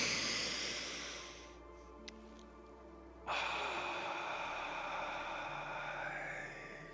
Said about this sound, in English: We'll take 3 nice deep breaths in through our nose, exhaling through our mouth.